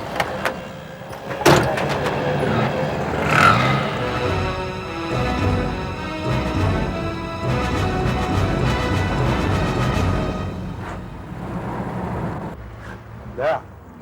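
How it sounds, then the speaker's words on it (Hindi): A jeep driving fast with engine rumble and road noise running throughout, with a few sharp knocks and thumps, while people talk over it. "अब दिखाओ तुम कितनी तेज जीप चला सकते हो।"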